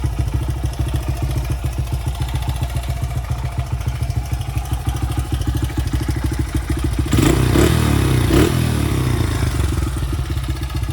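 A small dirt bike engine, a Honda CRF85 or Kawasaki KLX125, runs steadily after a carburetor clean, with a loud, even putter that briefly swells and clatters louder near the end; no one speaks.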